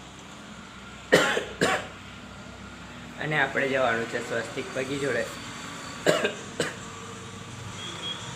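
Two sharp coughs near the mic, then someone speaks briefly, followed by two more coughs over a faint background hum.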